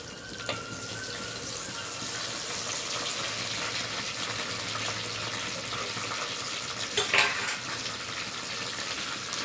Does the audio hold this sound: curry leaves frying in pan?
yes